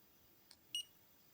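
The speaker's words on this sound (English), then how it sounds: "beep with no reading" A multimeter in continuity mode gives a short, faint high beep during a capacitor test, followed by a second, louder beep in an otherwise quiet room.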